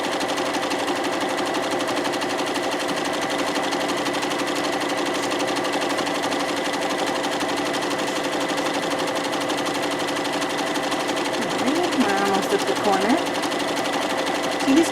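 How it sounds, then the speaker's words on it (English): A sewing machine stitches a pillowcase, going back and forth over the seam in a fast, steady, continuous whir at close range; near the end a faint voice and a few small handling sounds come in over the motor. "I'm going to go back and forth to make sure that it does get covered."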